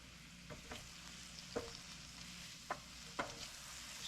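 Butter sizzles in a frying pan with fish cooking, a steady low fry broken by a few brief sharp pops and spatters, close and moderately quiet, no voices.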